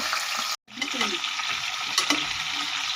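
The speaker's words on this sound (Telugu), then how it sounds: "ఈ పీతలు కొంచెం లైట్గా వేపుకోవాలి" Crabs frying in a pan as they are stirred, a dense close sizzle with a brief cut and a few spoon scrapes over three seconds.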